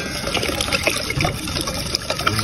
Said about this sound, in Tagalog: maglalagay na tayo ng tubig na may konting harinas para sa aking pampalapot